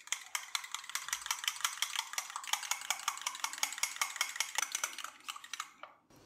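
A spoon whisks milk and oil into chocolate mug cake batter in a mug, a fast, regular series of close scraping strokes that slow and stop near the end.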